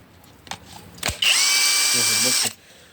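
A Procraft PWA36 impact wrench runs steadily with its trigger held on, a loud, close, continuous whine lasting over a second before cutting off, with brief knocks just before it and a voice speaking over the end.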